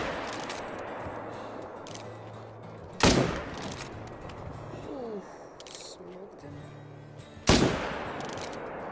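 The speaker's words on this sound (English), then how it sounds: "We're just gonna shoot all these level threes with the 300." Two loud, sharp .300 caliber rifle shots in a hunting video game, spaced about four seconds apart with short echoing tails, over a quiet outdoor ambience with faint birds and light talking.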